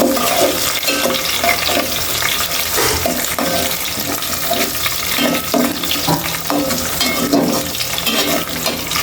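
Tomatoes sizzling with fried onions in a frying pan, a steady close hiss of hot oil with scraping stir strokes throughout, no voices.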